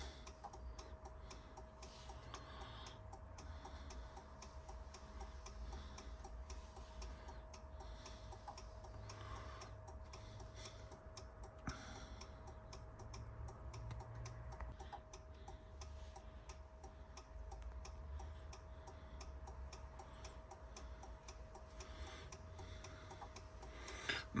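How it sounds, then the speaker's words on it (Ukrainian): Relay in the body control module of a Fiat Doblo that won't start, with hazard lights blinking, clicking in a fast, steady tick-tock rhythm over a constant hum, close and continuous throughout. "І оце БЦМ у нас, до речі, клацає."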